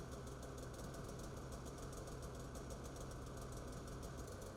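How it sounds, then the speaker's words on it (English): Polaris Patriot 9R snowmobile engine idling steadily, a faint, even mechanical drone with a fast regular pulse and no talking. "start the engine and ensure there are no warning lights present"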